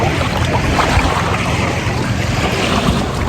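A bangka outrigger boat out on the sea off Cawayan, Masbate, a loud continuous roar of engine, wind and rushing water, dense and unbroken with no talking.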